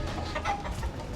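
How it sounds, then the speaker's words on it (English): Hens clucking softly in a short burst, a brief higher call rising over a steady background murmur. "chickens or whatever, hens."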